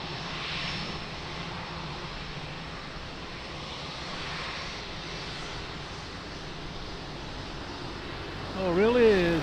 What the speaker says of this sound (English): Airbus 330 lining up for Lima.